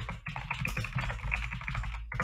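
Rapid clattering keystrokes on an old 1950s-style keyboard, close and steady for about two seconds, a dense run of sharp taps with a brief pause near the start and no speech.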